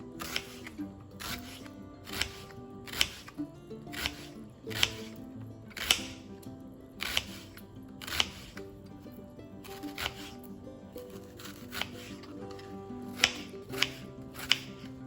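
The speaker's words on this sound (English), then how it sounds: "we just need to chop up our onion" Close, rhythmic knife chops of an onion being cut into small pieces on a board, roughly one or two crisp strokes per second under a faint background hum, without talk.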